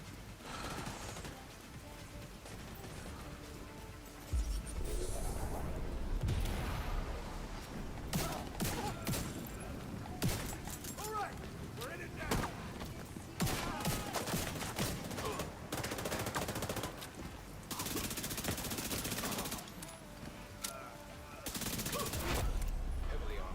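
SMG gunfire in the video game The Division 2, sharp rapid bursts of automatic fire repeating across the scene amid steady ambient noise, fairly close, with stretches of sustained shooting.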